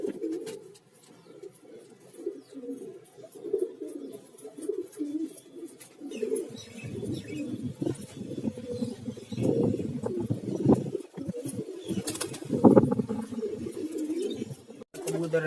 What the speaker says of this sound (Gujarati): કબૂતર અંદર આવી ગયા છે